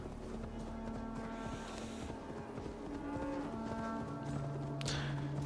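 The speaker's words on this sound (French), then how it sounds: "Il y a des vaches." Cattle mooing in the Assassin's Creed Valhalla game world, several low drawn-out moos one after another over a steady ambient bed, with a brief sharp noise near the end.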